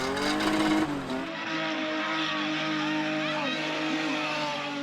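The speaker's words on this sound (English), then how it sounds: "she swings the car into high-speed skids and stunts like the circular maneuver called the donut" A car spinning through high-speed skids and donuts at a South African car-spinning event, with a loud whining engine and screeching tyres, then a steady engine roar that wavers as the car circles. A voice talks over it.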